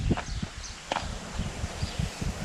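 A strong mare walking, hooves clip-clopping in an uneven rhythm of soft, fairly close thuds, with faint rustling around them outdoors.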